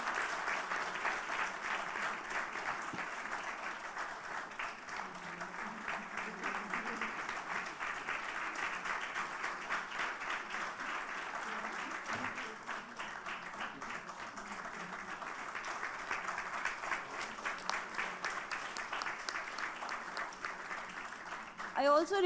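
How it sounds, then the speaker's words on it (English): A seated audience at a formal ceremony gives sustained applause as a chief guest receives a token of appreciation. The clapping is moderately quiet but continuous and even, with many hands blending into a long, unbroken wash. "Can we have a huge round of applause"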